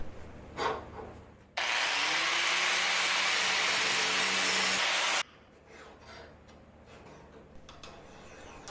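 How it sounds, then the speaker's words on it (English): A file and grinder work a band saw miter block on a Harbor Freight band saw, with soft rubbing strokes at first, then about four seconds of loud, continuous grinding that stops abruptly, followed by quieter scraping. "After slightly grinding and filing the block down, it now moves easily enough"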